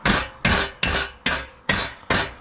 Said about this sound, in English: grab this rubber hammer to kind of tap on the axle and give it some gentle persuasion